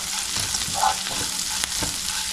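Curry leaves fry in oil while turmeric is stirred in for a coconut macaroni breakfast, a close, steady sizzle and crackle broken by soft scraping stirs in the pan.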